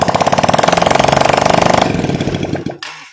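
A Honda Supra Fit motorcycle engine, being checked after a white-smoke fault, runs loud and close with a fast, steady pulsing beat before the revs change and the sound drops away near the end.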